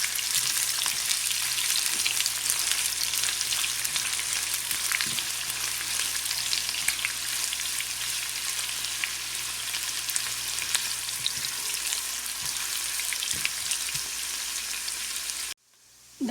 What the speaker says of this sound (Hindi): प्याज को हम फ्राई कर लेंगे इसके अंदर। प्याज फ्राई हो रही है।